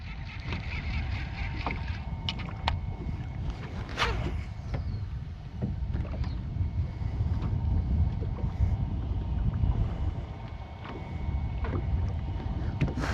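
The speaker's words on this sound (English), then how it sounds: "Frickin' wind." Wind blows across Lake Guntersville during evening bass fishing from a boat, a steady buffeting rush that rumbles over the microphone throughout, with faint clinks and creaks of the boat and gear but no talk.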